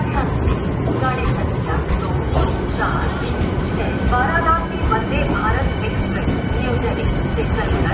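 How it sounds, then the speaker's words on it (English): Inside a moving Vande Bharat Express train, a steady rolling rumble with rattles and faint wheel squeal fills the interior, with voices talking underneath. "then we took this Vande Bharat Express train to Banaras"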